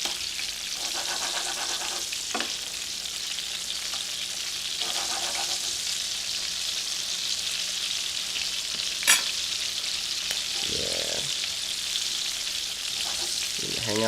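Food frying in oil at a chef's stove for dishes like Japanese katsu, a steady broadband sizzle running throughout with a few brief clinks and stirring knocks.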